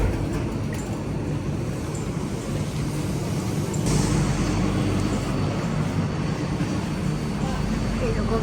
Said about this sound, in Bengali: ট্রেনে করে এক টার্মিনাল থেকে আরেক টার্মিনাল যাবো